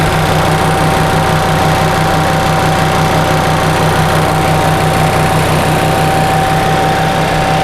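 A 1945 Onan generator engine running steadily under no load, a loud, even mechanical drone with a regular low pulsing and a faint steady whine, no voices.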